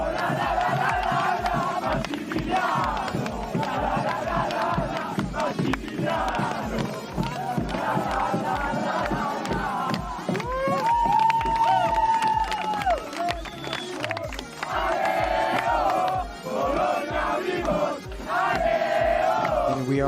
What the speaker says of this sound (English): We are hearing Italian chants in the crowd.